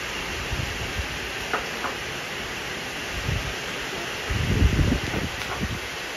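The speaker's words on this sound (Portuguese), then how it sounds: "Nossa, olha o quanto tá ventando, gente." Strong wind rushes and gusts in a steady noisy wash, swelling louder near the end, with faint rustling mixed in.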